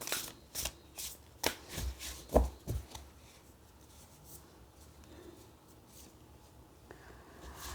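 Tarot cards handled and shuffled at close range, several crisp riffling bursts in the first few seconds and then quieter soft rustling, with no talking.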